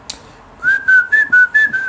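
A person whistles a short run of about six distinct musical notes, clear and close, each pitched tone separated by brief gaps after an opening breath.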